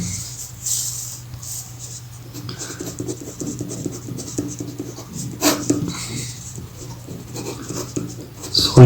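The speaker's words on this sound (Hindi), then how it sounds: "तो लिख लेते हैं इसको।" A pen scratches steadily across paper as a maths solution on compound interest is written out by hand, close and continuous with irregular strokes, a faint hum beneath and no talking.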